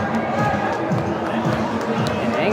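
Crowd murmur fills an indoor ice rink at Glenview Ice Center during a high school hockey game between the Titans and Ramblers, a steady dense chatter with scattered shouts and rink noise, fairly loud and continuous.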